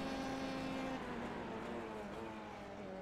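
A Dallara F3 race car in iRacing at Zandvoort, its engine holding a steady, loud, raw tone with a slight pitch drop partway through, continuous and alone.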